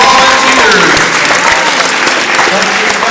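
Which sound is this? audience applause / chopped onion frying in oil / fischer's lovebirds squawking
audience applause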